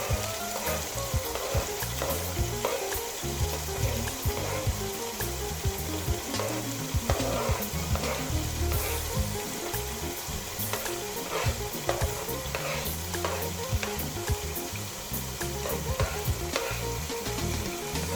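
Pieces of chicken fry with all-purpose seasoning and spring onion while a utensil stirs them through the pan. A continuous close sizzle runs under repeated scraping and stirring strokes, with no talking.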